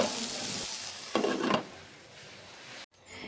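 Chopped vegetables and onion sizzle and get stirred in a frying pan while cooking for Assamese poha, a steady close fry with a brief louder scraping burst partway through, no talking.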